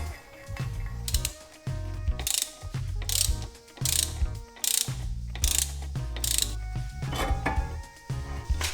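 A socket tool works a hub bolt loose on a Suzuki Jimny, sounding as repeated bursts of sharp metallic ratcheting clicks separated by brief pauses, close and fairly loud, with no talk.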